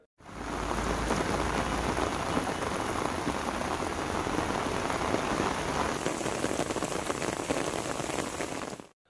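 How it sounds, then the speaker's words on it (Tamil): Heavy early-morning rain in the town of Tiruchendur, a dense, steady roar of downpour hitting surfaces that fills the whole clip, close and loud with no break. "திருச்செந்தூரில் விடிய பெய்த கனமழை காரணமாக நகரின் பல்வேறு இடங்களில் மழைநீர் தேங்கியது."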